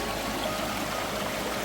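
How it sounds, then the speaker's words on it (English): River water rushes and trickles steadily over rocks along a hiking trail in northern Spain, a continuous close, broadband flow with no voices. "So I gotta cross a river now, balancing some rocks,"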